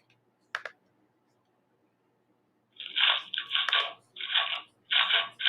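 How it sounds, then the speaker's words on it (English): Someone chewing food close to a microphone: after one brief early click, a run of four loud, wet, crunchy bursts repeats in a steady rhythm, with no talking over them. "I can hear you chewing"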